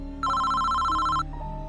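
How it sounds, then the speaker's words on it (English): A wall-mounted telephone gives one clear, loud electronic ring burst lasting about a second, then falls quiet with a faint tone after. "suddenly the phone on the wall began to ring"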